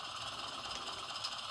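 Rapido GE 44-tonner DCC model locomotive running its engine startup sound, a steady rattling diesel drone from a small speaker, even in level throughout with no talking.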